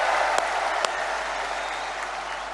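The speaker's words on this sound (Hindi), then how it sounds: "एक बार दोनों हाथ ऊपर उठा के तालियां बजा के स्वागत कीजिए," A rally crowd at a development-works event in Sagar, Madhya Pradesh, claps steadily in a dense, continuous wash of applause with a couple of sharp individual claps standing out, with no talk over it.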